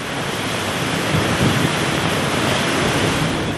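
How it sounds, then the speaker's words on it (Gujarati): Loud, steady roar of a rain-flooded river rushing bank to bank, a dense continuous wash of noise with no pauses and no voices. "શહેરમાંથી પસાર થતી નાવલી નદી બે કાંઠે વહેતી થઈ છે"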